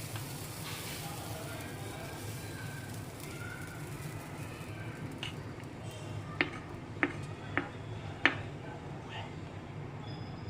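Masoor dal dosa batter sizzles and fries softly on a hot pan in a home kitchen, a steady low crackle punctuated by a few sharp clinks of a utensil toward the end.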